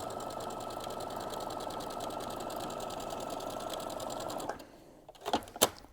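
A sewing machine runs in a steady, fast mechanical whir for several seconds, then stops, followed by a few sharp clicks and clatters.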